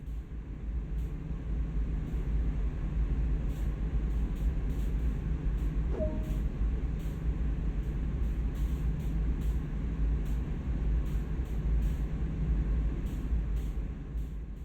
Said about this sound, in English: Watch for the brake pipe pressure indication to change, matching this reduction, and applying the brakes on the train.